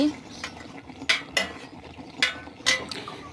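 Metal utensil clinks and scrapes against a pan as bottle gourd greens are turned over while cooking, several sharp separate knocks spaced irregularly over a low steady simmer.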